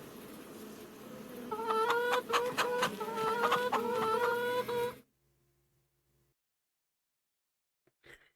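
Farming Simulator 25 chickens cluck in quick, overlapping bursts for about five seconds, then it goes almost silent apart from a faint hum and a brief click near the end.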